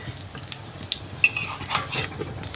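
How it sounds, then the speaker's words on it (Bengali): Matar dal lentil fritters (bora) fry in a pan: a steady close sizzle with small scraping and metallic clinks of a utensil stirring or turning them. "এখন এই বড়া ভাজলি হয়ে যাবে"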